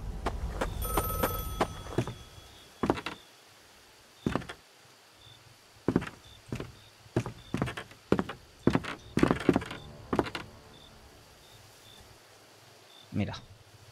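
In the video game Jack Holmes: Master of Puppets, a telephone rings in repeated short bursts alongside thuds and footsteps, moderately loud with a person talking at times.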